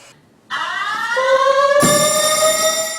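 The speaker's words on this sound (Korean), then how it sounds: "연기가 감지되자마자 아파트 전체에 화재 경보가 울리고" A fire alarm in a 41-storey high-rise apartment building sounds loudly after a brief quiet start, a piercing electronic tone that shifts pitch and then holds steady.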